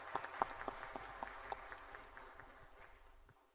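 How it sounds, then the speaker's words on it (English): Applause from an audience honoring the Rapid Action Force at its 31st anniversary event: scattered, uneven claps with several sharp louder hits early on, thinning out toward the end. "a big round of applause for the RAF for this"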